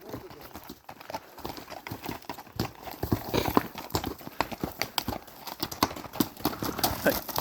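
Horse hooves clip-clop steadily on a trail ride, loud and close, with an occasional snort or whinny and people talking nearby.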